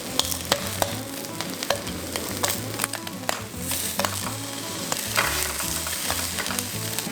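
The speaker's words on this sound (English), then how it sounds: "we're gonna pan fry it on medium heat." Four slices of Spam pan frying on medium heat, a steady loud sizzle with crackling pops and occasional stirring clicks throughout.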